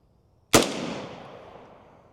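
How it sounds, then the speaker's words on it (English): A single sharp suppressed gunshot from an Omega 9K on gas setting 1 with subsonic ammunition and an H3 buffer cracks loudly, then decays in a long fading tail. "Omega 9K on gas setting 1 with subsonic ammo"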